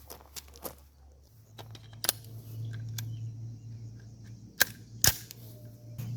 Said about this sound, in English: we're going to do a little bit of shooting and scooting here